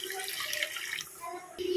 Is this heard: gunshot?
no